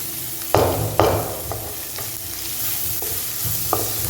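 A spoon scrapes and knocks through spiced masala frying in oil in a pan for restaurant-style kadai chicken, with several sharp stirring strokes over a soft, continuous sizzle.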